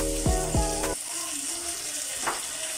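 Beef lomo saltado stir-fry with onion and oyster sauce sizzles steadily in the pan, a broad hiss that follows a brief tonal sound at the start.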